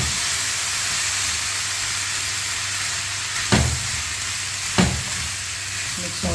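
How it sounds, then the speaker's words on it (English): Vegetable fried rice stir-fried in a pan, a loud steady sizzle and hiss with two distinct scraping stir strokes cutting through near the end. "Mix all together and cook for 3 to 4 minutes."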